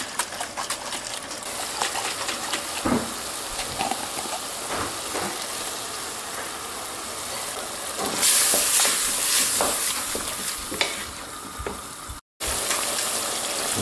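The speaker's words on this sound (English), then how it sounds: "all the water is boiled off, all that's going to be left is meat and fat" Ground beef sizzling and crackling in a pan as its water boils off, a continuous close fry with scattered pops and occasional stirring scrapes, growing hissier partway through.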